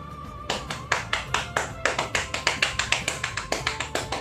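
Bare hands tap out a drum beat in place of drumsticks, sharp close slaps that fall in a quick, steady rhythm with varied accents after a short pause at the start.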